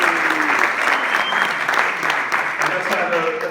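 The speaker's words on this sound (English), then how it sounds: "Let's have a last round of applause for our graduates." Sustained audience applause for graduates at a graduation ceremony, a dense, steady clapping that fills the room without letup for the whole stretch.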